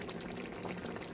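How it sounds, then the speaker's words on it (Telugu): Egg curry bubbling in a pot on the stove, a faint, steady simmering hiss with soft popping bubbles. "బాగా తెరులుతుంది"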